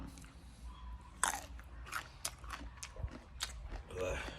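Someone bites into a home-grown mango and chews it: a sharp crunchy bite followed by moist, irregular chewing close to the microphone, with voices faintly under it.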